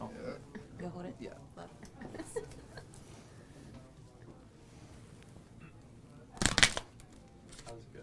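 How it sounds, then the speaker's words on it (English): A brief, loud burst of playing cards riffling and snapping together, heard once amid quiet background chatter and rustling during a magic performance. "Somebody want to shuffle them up?"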